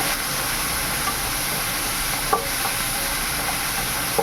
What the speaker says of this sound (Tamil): இந்த காயெல்லாம் நல்லா வதங்கட்டும்